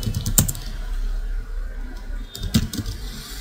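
An IP address is typed on a computer keyboard: a handful of close key clicks in two short bursts over quiet room noise, with no speech.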